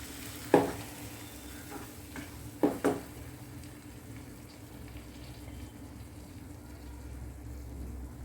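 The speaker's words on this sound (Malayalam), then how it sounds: "ഇത് നമുക്ക് നല്ലതുപോലെ വഴറ്റിയെടുക്കാം." Ground tomato paste for a paneer curry sautéed in a pan, a soft low sizzle with a few sharp clatters of the spoon early on, then a quiet steady simmering hiss.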